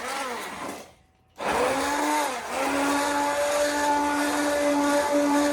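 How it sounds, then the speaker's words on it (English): A blender blitzes potato corn chowder in a loud, steady whirring roar, cutting out briefly before restarting with a rising motor whine that holds to the end. "I just blended it a little bit"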